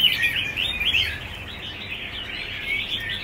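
A newly arrived red-whiskered bulbul at a bird shop in Ho Chi Minh City sings a steady, bright stream of high chirps close by, continuous over a low background hum with no talking.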